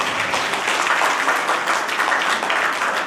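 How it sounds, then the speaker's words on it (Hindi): An audience claps to welcome a guest at a national Arya youth council foundation day event, a dense, even roar of applause that holds steady for a few seconds. "एक बार तालियां बजा के स्वागत कर दें।"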